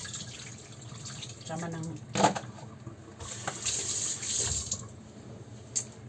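Running tap water pours steadily over fruit being washed in a sink while making a creamy fruit salad, with a few splashes and handling noises; someone speaks quietly over it.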